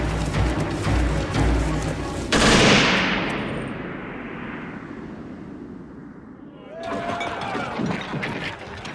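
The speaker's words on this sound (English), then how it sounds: "Anyone captured who is believed to be a sniper is shot." Gunfire from a wartime firing squad shooting captured suspected snipers, heard as a dense, loud burst of rattling shots and a heavy blast that fades into a long echoing decay before another rough volley rises.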